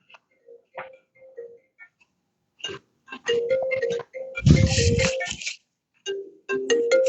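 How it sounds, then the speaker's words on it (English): An iPad rings in a classroom during a calculus lesson, giving repeated short electronic tonal chirps in bursts with a louder, denser burst partway through. "How does an iPad ring?"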